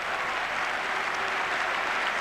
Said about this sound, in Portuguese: Muito aplaudido o Vítor Bahia a sair, o guarda-redes do Futebol Clube do Porto.